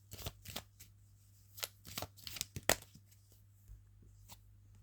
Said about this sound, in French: Attends, je vais prendre encore une carte.